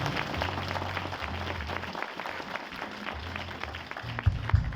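A church congregation applauds steadily and fairly loudly at a Sunday event, with a continuous wash of clapping and a low hum of music or crowd underneath.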